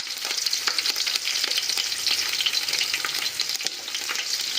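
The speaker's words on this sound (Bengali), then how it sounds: "তেজপাতাটাও ভাজা হয়ে গেছে। এতে কিছুটা কাঁচা লঙ্কা চিরা দিয়ে" Slit green chillies crackle and sputter in hot oil and ghee with a bay leaf, a dense close sizzle with frequent sharp pops and no voices.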